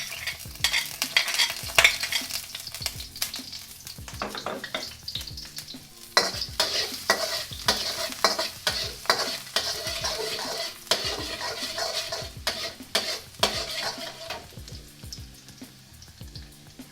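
Chopped garlic fries in two tablespoons of oil in a pan, giving a steady, close sizzle broken by frequent scraping stirs, with no voices.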